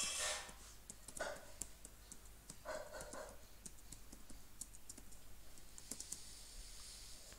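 Computer keyboard typing while code is written, a soft, steady patter of quiet key clicks at a distance, with a few louder taps and no speech.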